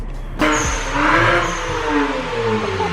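A BMW M3 engine kicks in abruptly and revs loudly nearby, its note climbing and dipping over a few seconds with no talk.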